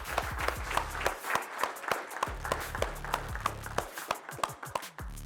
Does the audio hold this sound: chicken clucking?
no